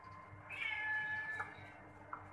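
Twin cats in a cage meow to each other, one drawn-out meow followed by a short faint call, close and clear over a low background hum.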